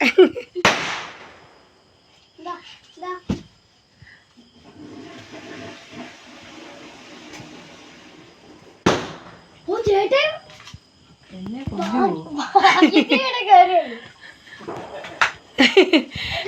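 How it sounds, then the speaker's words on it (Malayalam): Sharp firecracker bangs burst at intervals during a festival day, some loud and close, mixed with children and adults talking and exclaiming in between. "ഇവിടെ പടക്കം പൊട്ടിക്കുന്നുണ്ട്"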